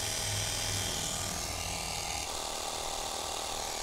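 A Xiaomi portable air pump inflating the front tyre of a Triumph Trident 660 motorcycle runs as a loud, constant mechanical buzzing drone close up, its pitch shifting slightly partway through.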